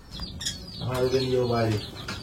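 Close, soft cooing of pigeons rising and falling for about a second, with a few faint chirps around it.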